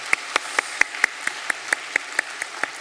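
A church congregation applauds after a choir's new hymn at a Sunday worship service, with about a dozen sharp, evenly spaced claps at moderate distance and no talking.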